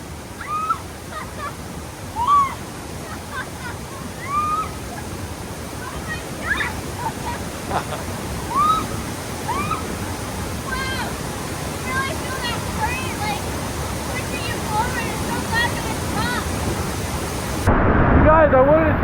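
A strong river current rushes steadily near Horsetail Falls at Tahoe, a loud, constant wash of water up close, with birds calling faintly over it and a sharp noisy burst at the very end.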